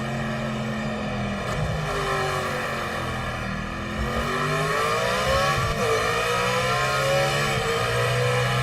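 Corvette engine in a racing video game, a loud continuous drone that revs up and down steadily with no pauses, a second engine tone weaving underneath.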